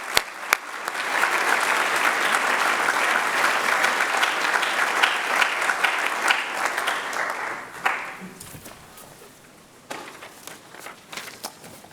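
Audience applause welcomes Professor Yong to the stage at an Asian American theology lecture, a dense steady clapping from a gathered crowd lasting about eight seconds before thinning out into scattered claps and shuffling.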